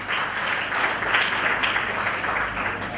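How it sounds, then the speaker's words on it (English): An audience at a film awards gala in northern Uganda claps steadily for three seconds, a dense, close wash of applause with no voices standing out. "Can we clap for ourselves?"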